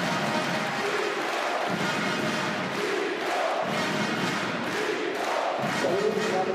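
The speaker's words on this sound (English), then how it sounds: "Huge acknowledgement by the crowd here" A handball arena crowd at a near sold-out match cheers and applauds steadily, a dense, continuous roar of clapping and shouting from many people throughout.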